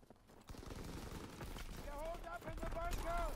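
Automatic weapon fire in a World War II video game, rapid bursts of shots mixed with explosions and in-game effects, with a player talking over the action.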